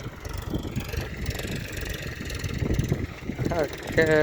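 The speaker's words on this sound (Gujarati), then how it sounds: "ટ્રેક્ટર હાલે" A tractor engine runs at a farm with a steady, low, rumbling idle, close by and heard under people talking.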